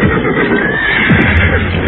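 A horse whinnies loudly and clearly in an audio drama, a long neigh that rises and falls, with a few faint hoof clops under it.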